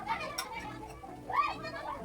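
Children play noisily at a family home in the Philippines on a Sunday, their shrill voices and shouts rising and falling in a close, busy jumble, with one sharper cry standing out.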